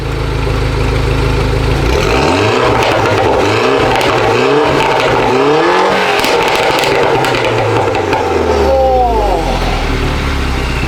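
A Mini Cooper R56 JCW on a decat exhaust is revved hard and repeatedly, close and loud, its engine note swooping up and down with sharp crackling pops scattered through the blips.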